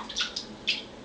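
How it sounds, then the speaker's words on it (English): Water shaken out of a wet velvet cloth gives a few quick, close splashy flicks and spatters, three short bursts within about a second. "I'm just shaking some water out."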